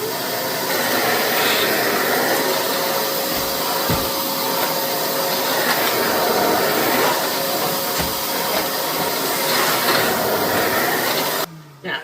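A Kenmore Pop-up 600 Series canister vacuum runs at maximum suction on an extra-low floor setting, a loud, steady, close roar with a faint whine that cuts off abruptly near the end.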